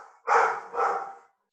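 A dog gives two quick barks close by, indoors, a short sharp pair with a brief gap between them.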